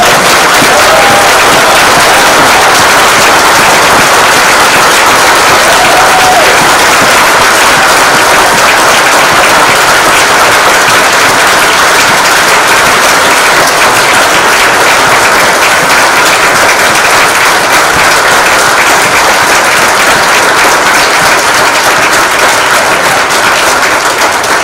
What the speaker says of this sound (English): please have one final round of applause